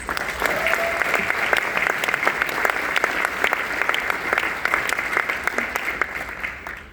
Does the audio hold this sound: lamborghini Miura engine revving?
no